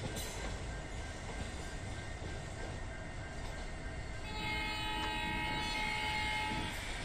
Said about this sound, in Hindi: ये देख सकते हो पैसेंजर ट्रेन जा रही है 5575 हल्दीबारी। हल्दीबारी न्यू जलपाईगुड़ी पैसेंजर यहाँ पे जा रही है क्रॉस करते हुए हमें